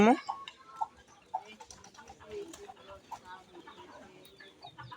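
Free-range local chickens clucking around a farmstead with pigeons nearby, a few sharp near calls at first, then softer scattered clucks beneath people talking.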